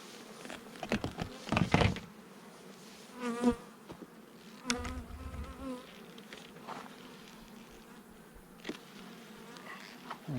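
Honey bees buzz around an opened hive during a summer honey harvest, a steady near drone with individual bees swooping close in louder passes, plus occasional knocks and scrapes of frames being handled.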